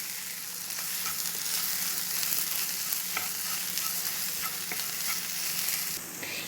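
Food sizzling in a hot pan as it is stirred and scrambled for a cream pasta masala, a dense continuous hiss broken by light scraping strokes, with no talking.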